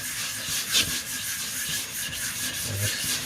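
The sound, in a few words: sharpening a Nakiri knife on a whetstone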